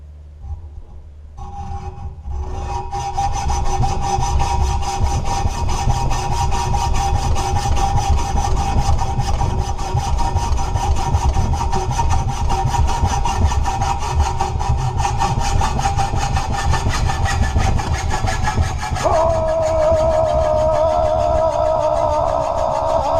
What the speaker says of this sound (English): I'm probably gonna have to go at this one with a hacksaw.